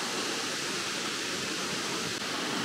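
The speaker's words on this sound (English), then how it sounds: "the power coming from this waterfall definitely making a nice strong breeze" A raging waterfall with freezing cold water roars as a dense, constant wash of noise, close and loud, with no voices over it.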